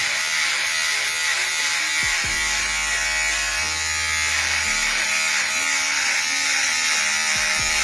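An electric shaver buzzes steadily and loudly while trimming a goatee, its hum shifting in pitch as it presses against and pulls through the beard hair.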